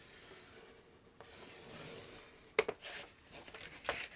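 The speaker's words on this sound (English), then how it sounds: "And gently score." A blade scores the base of a steampunk folio. Faint, close rasping scrapes are followed by a sharp scratch and a few quick rubbing strokes in a quiet room.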